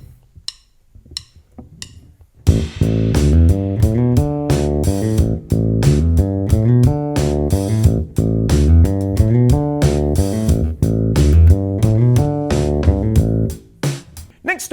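A bass riff plays along with a practice track that includes drums. A few soft clicks lead in, then a steady, loud groove runs for about eleven seconds before stopping.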